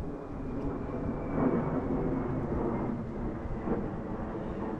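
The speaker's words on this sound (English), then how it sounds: "Wait for that plane to go over." Low, steady drone of an airplane passing overhead outdoors, a broad rumbling wash that swells slightly and holds for several seconds with no talk.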